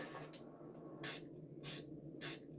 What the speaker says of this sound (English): So if you click Y, you spray on it